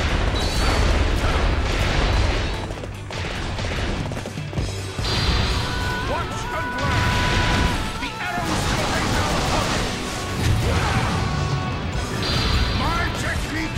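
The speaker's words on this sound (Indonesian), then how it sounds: "Ini ulti spesialnya itu kayak nembakin arrow beberapa puluh kali kayaknya" A special attack in Dynasty Warriors 8 Xtreme Legends fires dozens of arrows in a loud, dense barrage of crashing, booming impacts that runs almost without pause over the continuous din of battle.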